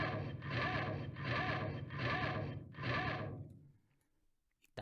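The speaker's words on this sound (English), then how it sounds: "So that's how you make a robot walk about." A robot footstep effect built from a vacuum cleaner cord and a front door, fed through a guitar amp with an overdrive pedal and heavy reverb. Four loud, gritty, scraping clanks land in a steady walking rhythm, then fade into silence.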